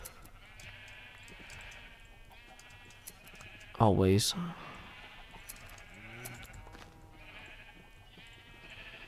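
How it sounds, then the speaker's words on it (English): A sheep in Minecraft gives one loud, close bleat midway through, with a fainter second bleat shortly after, heard over soft game ambience while someone talks. "See, we're getting more sheep now."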